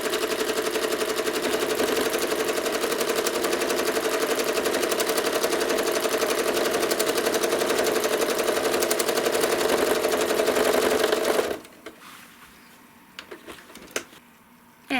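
A sewing machine stitches in the ditch between two fabric handles, running as a steady, close, rapid whir for about eleven seconds before stopping, followed by a few soft handling clicks.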